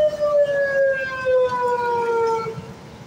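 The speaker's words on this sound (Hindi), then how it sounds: "आपको सायरन की आवाज़ आ रही होगी।" A wailing siren rises and falls in long tonal sweeps, loud and clear against a low background rumble.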